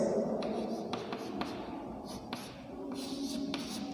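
Pen or marker writing on a board or paper during a Class 12 biology lesson on inheritance, a soft continuous scratching with light tapping strokes at a steady pace, no voice heard.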